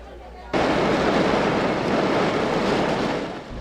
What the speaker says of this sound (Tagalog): Malakas na buhos at minsang pabugso-bugsong ulan ang naranasan kaninang umaga sa maraming bahagi ng Maynila.